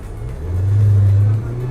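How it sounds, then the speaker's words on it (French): A Ferrari 488 Spider engine on the streets of Monaco, a close, loud low drone that swells into a sustained rev for about a second, then settles back. "On retombe sur cette 488 Spider."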